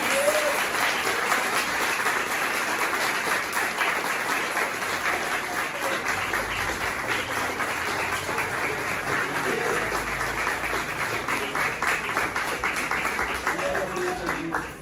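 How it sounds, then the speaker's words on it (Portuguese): A church congregation claps steadily and loudly throughout, a thick wash of many hands with voices mixed in beneath. "Aplauda o nome do Senhor Jesus"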